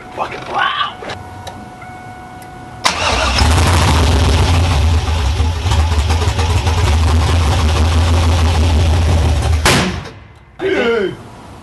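The loud 6.0L LS2 V8 in a Trans Am rumbles close by for several seconds and then stalls, cutting off abruptly. People talk briefly before the engine catches and again after it dies.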